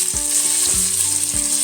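Soy sauce hits a hot pan of sautéed garlic and onion for fish-roe adobo, giving a steady bright sizzle with a few sharp spatter bursts, close and loud, with no talking.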